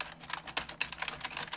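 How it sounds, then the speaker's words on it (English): Quick, irregular clicks of fingers typing on a computer keyboard come as a soft, close run of keystrokes, with no voices over them. "Once you finish typing"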